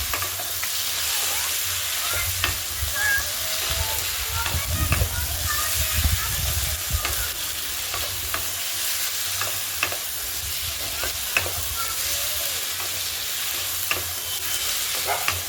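Tomato and potato fry with chopped ginger in an oiled pan, a steady sizzling hiss with repeated scraping and tapping of a stirring utensil, and a voice talking intermittently over it.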